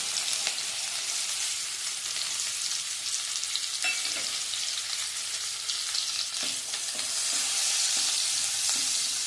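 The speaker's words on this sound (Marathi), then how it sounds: "हा कांदा साधारण गुलाबी रंगावर होईपर्यंत आपण परतून घ्यायचा आहे." Chopped onion and turmeric fry steadily in a pan over low heat, a dense continuous sizzle with faint stirring scrapes, close and unbroken with no voices.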